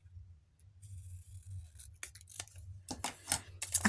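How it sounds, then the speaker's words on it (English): Scissors snip through paper up close in a quiet room, a few sparse crisp cuts and rustles with small gaps between them, growing busier toward the end. "I'm not very good at cutting out with scissors."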